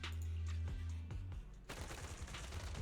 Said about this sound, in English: Sharp gunshot echoes from not far away